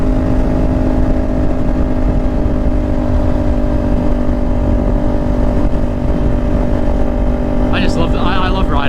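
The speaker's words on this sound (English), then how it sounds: "let's downshift to redline it and rev it." A motorcycle engine drones loud and steady from close by, with constant road and wind rumble. Any clear rise to redline is hard to pick out, and a voice speaks briefly near the end.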